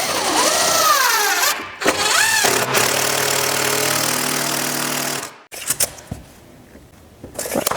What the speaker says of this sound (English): Now I need to put some screws in.